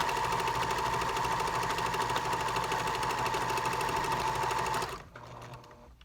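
A sewing machine runs steadily at speed, stitching up the side of a Valentine treat bag with a see-through window. The motor whirs loud and close for about five seconds, then stops abruptly, leaving a quiet room.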